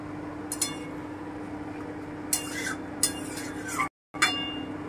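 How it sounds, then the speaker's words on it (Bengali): A lid set onto a pot of saffron mutton korma on a home stove, giving a few faint clinks and a brief metallic clatter against steady kitchen background hum, with no talk. "এবারে আমি একটু ঢেকে দেব, আঁচটা কমিয়ে দিচ্ছি।"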